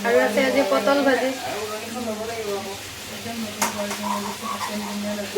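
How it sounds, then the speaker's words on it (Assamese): Pointed gourd (potol) frying in a pan in a home kitchen, a soft continuous sizzle with occasional stirring scrapes, heard beneath someone talking for most of the clip. "আৰু আছে আজি পটল ভাজি।"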